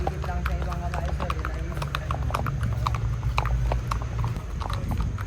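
Horses carry riders in Baguio City, their hooves clip-clopping in a quick, steady rhythm of sharp knocks on hard ground, close by and continuous while people talk.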